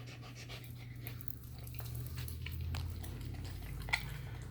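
A 10-week-old puppy chews raw chicken wings close up, with wet crunching and biting sounds mixed with steady panting and breathing, fairly faint overall.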